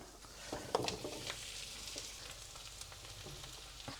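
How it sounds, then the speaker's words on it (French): Sliced mushrooms and onions fry quietly in a pan, giving a faint, even sizzle with a few small crackles and stirring touches near the start. "On va pouvoir ajouter les champignons à la poêle."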